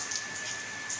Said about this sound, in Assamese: বৰষুণ পৰিছে